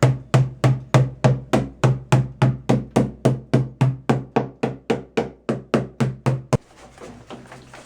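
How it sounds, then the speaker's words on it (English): A small hammer taps a metal Volkswagen bus gas tank about two dozen times in a steady, even rhythm, each strike ringing briefly, then a short burst of rustling noise. "Let me get a little hammer and give it a little love tap."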